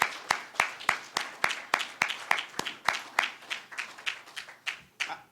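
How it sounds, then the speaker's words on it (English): Hands clap at an awards ceremony for the Princeton Prize in Race Relations, a sparse, rhythmic run of sharp, distinct claps from a few people that gradually loosens and fades. "give one big round of applause for everybody"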